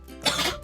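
A single short, rough cough bursts out close to the microphone, with a small follow-up catch in the throat.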